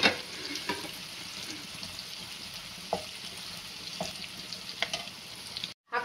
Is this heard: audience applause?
no